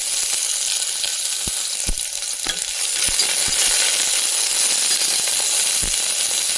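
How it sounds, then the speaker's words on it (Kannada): Onions hit hot oil with mustard seeds and sizzle loudly and continuously, while sharp spatula knocks and stirring scrapes recur up close. "ಈಗ ಈರುಳ್ಳಿ ಹಾಕ್ಕೊಳ್ಳೋಣ."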